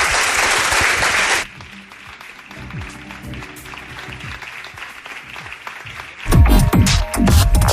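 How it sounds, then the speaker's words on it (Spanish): Audience applause in a talk-show studio breaks out loudly, fades under a low hum and scattered claps, then swells again in a bright burst near the end. "Os pido un aplauso para él."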